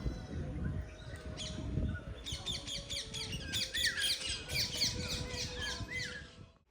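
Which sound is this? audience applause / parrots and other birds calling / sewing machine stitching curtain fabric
parrots and other birds calling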